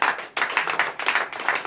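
A church congregation at a night deliverance service claps in short, loud bursts, the rhythmic hand claps separated by brief pauses, close and lively with no talk over it.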